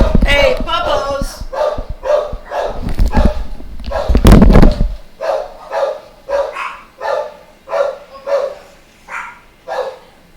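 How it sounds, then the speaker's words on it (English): Pet dogs barking excitedly indoors, a dense burst of overlapping barks followed by a run of loud, evenly spaced single barks, close to the microphone, with a person's voice mixed in at the start. "oh, my dogs go crazy"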